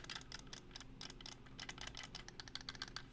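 Rapid, crisp clicks from tactile button mods on an 8BitDo N64 controller, pressed repeatedly in quick irregular bursts, close up and quiet with no voices.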